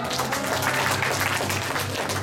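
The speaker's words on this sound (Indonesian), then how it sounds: "Tepuk tangan untuk kita semua." An audience at an Indonesian talk or seminar claps steadily and densely throughout, a continuous wash of hand claps with a faint low hum beneath and a few scattered voices.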